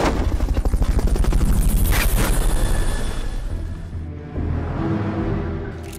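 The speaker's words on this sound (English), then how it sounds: "Ultimate recovery helicopter is complete. Fulton recovery subject confirmed onboard helicopter." A recovery helicopter in the Metal Gear Solid video game beats loudly with a fast, steady rotor chop, then trails off into quieter game ambience.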